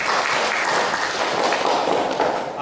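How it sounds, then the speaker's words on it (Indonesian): Students in a school classroom applaud a good question about student council candidates, a full, steady round of clapping from the group that continues without pause. "tepuk tangan."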